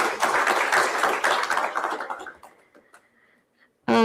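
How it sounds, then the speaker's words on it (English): A short burst of audience applause, dense clapping at an award event, fading out over a couple of seconds into near silence. "Can I have a huge round of applause,"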